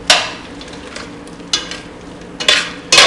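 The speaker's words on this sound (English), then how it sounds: "we're going to let this saute for 2 or 3 minutes till all the meat is done" Beef for stroganoff sautéing in a pan, a soft sizzle broken by a few sharp, loud scrapes and clatters of a utensil against the pan, with no speech.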